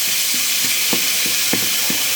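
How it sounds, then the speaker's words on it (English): Ground beef sizzles steadily in a home frying pan while a utensil breaks it up, giving a constant hiss with soft, regular scraping taps about every third of a second. "And then I'm breaking this beef up."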